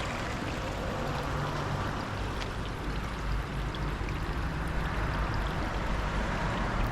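Waterfall on Tasmania's west coast, a steady, unbroken rush of falling water that stays close and even for the whole stretch, with no voices over it.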